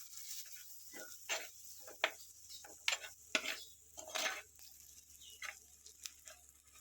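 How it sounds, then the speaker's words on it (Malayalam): Fenugreek, turmeric and asafoetida powders are stirred into a Kerala fish curry masala in a pan, giving quiet, irregular scrapes and soft clinks of a spoon against the pan, close by, with no voices. "ഉലുവപ്പൊടി, മഞ്ഞൾപ്പൊടി, കുറച്ച് കായത്തിൻ്റെ പൊടി, ഇതും കൂടിയിട്ട് നന്നായിട്ട് ഇതിൽ മിക്സ് ചെയ്യാം"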